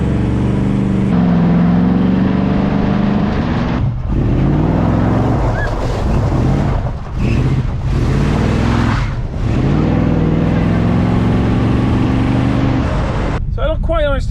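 A 1971 Chevelle, revived after sitting about twenty years, drones along steadily while driving, its engine loud and close with a continuous low hum, under speech from people in the cabin.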